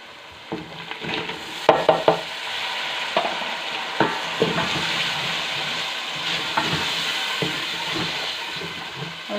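Chopped tomatoes fry in an oil-filled pan for a Hindi/Urdu chana dish, a steady close sizzle broken by repeated scrapes and clatters of a spoon stirring against the metal.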